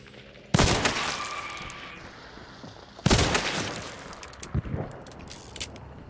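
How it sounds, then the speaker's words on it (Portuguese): Two sharp bursts of gunfire in the video game Hunt: Showdown, each a loud crack followed by a decaying rumble, with a few lighter pops afterward. "Tem alguém por perto de mim atirando aqui."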